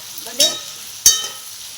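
Cashews roasting in a pan for a masala gravy, giving a faint low sizzle broken by two sharp close clinks of a spoon against the pan about half a second apart.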